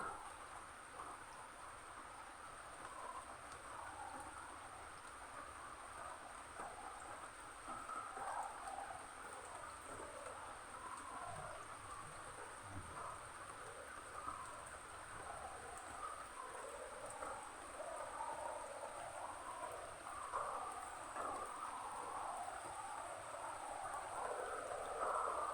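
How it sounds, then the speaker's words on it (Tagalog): Faint, steady rain patters in the background with a constant high insect-like whine, a soft continuous wash with no talking. "Nag-uumpisa na naman yung ulan"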